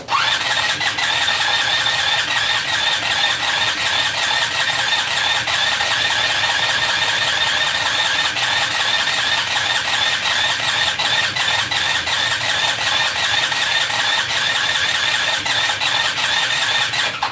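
A free Chinese 150cc scooter engine cranks and fires, then idles unevenly, a loud continuous rattling drone with squealing edges that runs the whole stretch without talk.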